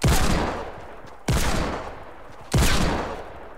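Gunfire in the video game Fortnite, three loud close bursts about a second apart, each cracking sharply and fading slowly.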